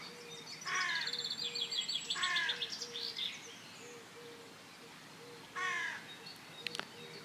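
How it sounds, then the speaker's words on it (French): Crows cawing in repeated harsh bursts, close and loud, with a pause before one more call, over a low background of insects and other birdsong. "Écoute les bruits des oiseaux et des singes autour de toi."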